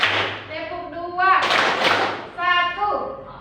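A classroom of children claps in a counting focus game, a dense burst of claps in the middle framed by a teacher's prompts and the children's chanted answers.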